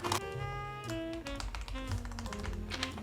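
Keys on a modded, lubed Anne Pro 2 mechanical keyboard with generic black-on-white keycaps clack in quick, irregular taps, partly masked by louder tonal music.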